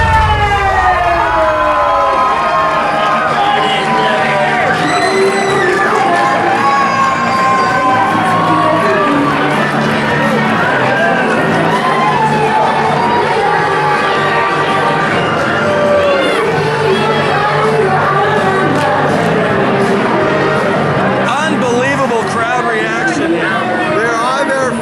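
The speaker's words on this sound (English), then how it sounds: "take into account the crowd's reaction as Jushin Thunder Liger enters the ring" A large, dense crowd at a professional wrestling event roars and cheers loudly and continuously as Jushin Thunder Liger enters the ring, with shrill whistles and wailing shouts rising through the din.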